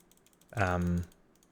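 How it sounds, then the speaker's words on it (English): Rapid, light mechanical clicks tap away steadily from mechanical button switches on a game controller, interrupted midway by a short voiced hum. "So the old one had these mechanical switches. You'll be able to hear them."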